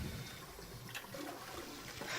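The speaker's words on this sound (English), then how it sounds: "Here we go, flushing toilets on the internet." A toilet flushes in the video game 999, a steady low rush of water with a faint trickle, heard quietly with no talking.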